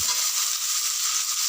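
Potatoes with vegetables frying in a pan for a Bengali red amaranth greens chachchari, a steady close sizzle with faint stirring throughout, no talking.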